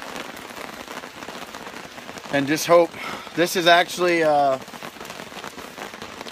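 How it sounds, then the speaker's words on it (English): Rain patters steadily on a big tarp sheltering people at a campsite during a stormy 2015 camping and bushcraft trip in Jackson, Ohio, forming a constant wash beneath someone talking. "It's raining again. So all we can do is sit underneath this big ass tarp."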